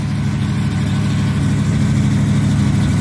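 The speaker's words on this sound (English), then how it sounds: "The engine runs so good, man." A Chevrolet car engine idles loudly and steadily up close, a deep rumbling drone with no voices.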